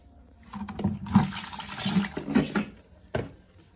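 Half a litre of water poured into a container to dissolve lye for homemade liquid soap, a splashing, gurgling stream with several surges over a few seconds, close and fairly loud, with no talking.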